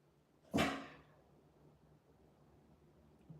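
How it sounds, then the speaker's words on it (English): A single sharp dog bark rings out once, fairly loud and close, then fades into quiet room noise with no further barking. "You gotta let dogs bark, but she be doing too much sometimes"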